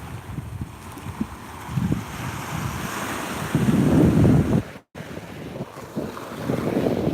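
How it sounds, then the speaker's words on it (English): Strong wind buffets the microphone over surf rolling onto a Sanibel beach at sunset, with a loud gust swelling midway before a brief dropout, then steady blowing resumes. "It's very windy."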